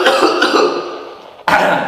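A single close, loud cough with a rough throaty burst, followed by a sharp second cough onset, heard on its own without talk.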